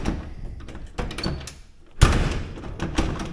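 An old truck door with a 345 V8 gas engine slams shut partway through, one loud sharp thud preceded by softer handling knocks and rattles, close up.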